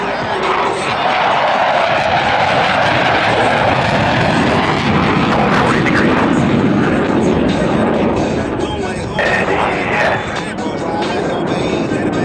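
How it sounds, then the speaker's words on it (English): Blue Angels jets pass over show center at an airshow with a loud, sustained roar filling the whole stretch, mixed with crowd noise and announcer talk in the background. "watch as both pilots sustain 6 times the force of gravity to cross their aircraft over show center"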